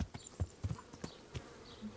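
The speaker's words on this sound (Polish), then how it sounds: "to tutaj jest ostatni koń" Horse hooves clip-clop in Kingdom Come: Deliverance, a quiet, uneven run of soft thuds spaced a few per second, close and alone with faint insect buzz.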